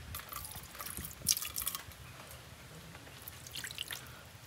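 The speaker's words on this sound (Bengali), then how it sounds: "উষ্ণ গরম জল দিয়ে দিলাম" Warm water is poured into a pan before scrubbing, giving soft splashes and drips with a brief louder burst, close by and with no voices.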